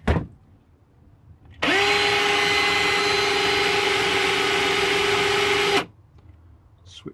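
Universal motor spun up in the reverse direction, a steady whining hum with a rising tone that starts abruptly, holds for about four seconds, then cuts off cleanly into near silence.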